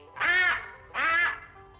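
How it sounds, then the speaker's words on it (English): A duck quacks twice in a farm setting, two clear, evenly spaced nasal calls, close and distinct with nothing else over them. "Yep, it's a duck."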